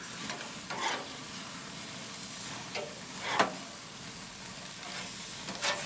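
Sausages sizzling on a grill as they are pushed aside with a utensil, a low steady frying hiss broken by several short scraping swishes, moderately close and without talk.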